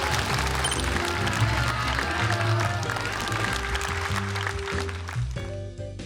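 An audience applauds at a stand-up comedy show, a steady wash of clapping layered with stage music that holds for several seconds before thinning out at the end.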